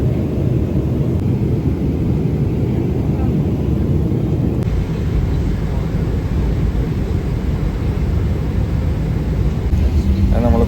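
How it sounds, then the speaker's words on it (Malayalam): An airliner landing at Kochi produces a loud, constant low cabin roar that fills the whole stretch without letup, heard from inside the plane. "നമ്മൾ കൊച്ചിയിൽ ലാൻഡ് ചെയ്തേക്കാണ് ഫ്ലൈറ്റ്."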